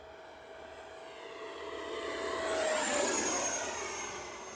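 A Horizon Hobby F-18 with an 80mm electric ducted fan spools up, its high whooshing whine rising in pitch and loudness to a peak before easing slightly, heard close and alone.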